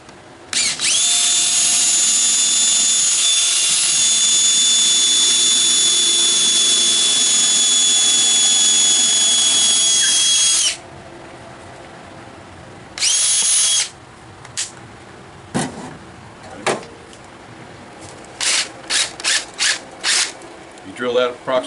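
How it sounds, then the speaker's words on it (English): A power drill bores into wood for glider bench screws, a loud, high whining buzz held steadily for about ten seconds, then several short bursts of drilling with quiet gaps between them. "drill that approximately 3/8 of an inch deep"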